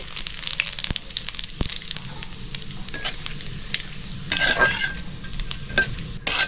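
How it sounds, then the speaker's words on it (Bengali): Bay leaves, broken dried red chillies and cumin seeds crackle in hot oil as a spoon stirs them, a close sizzle punctuated by sharp scraping clicks and a brief louder burst near the end, with no voices. "মাছের মাথা আর আলু ভাজা তেলের ভিতরে ফোড়ন দিয়ে দেবো।"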